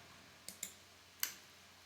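Computer mouse right-clicks during AutoCAD 2023 setup on a PC: three sharp, quiet clicks, a quick pair followed by a single one after a short pause, close and isolated against near silence.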